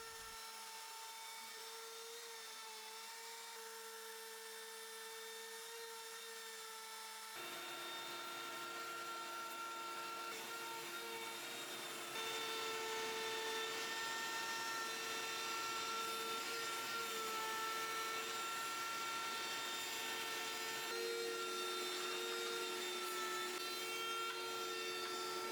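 A large CNC machine cuts parts inside a shed, giving a continuous whining, buzzing drone with steady tones. It grows louder and denser partway through and keeps running without talk.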